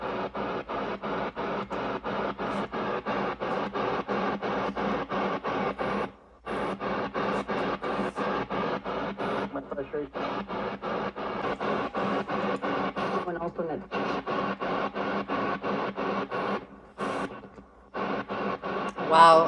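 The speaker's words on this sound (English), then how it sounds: "You hear the breaks in the static? Right there?" Spirit box radio static hisses loudly and continuously, sweeping across stations with rapid choppy pulses and several brief dropouts into silence; the static runs alone throughout.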